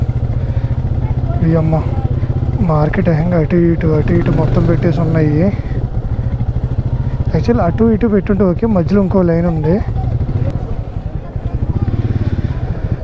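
A motorcycle rumbles at steady low throttle along a crowded market road, its engine drone continuous beneath a rider talking throughout.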